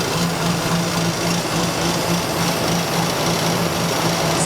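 A Chevy Caprice engine idles through its stock mufflers, giving a steady, subdued hum with a faint low throb, continuous and close, no voices.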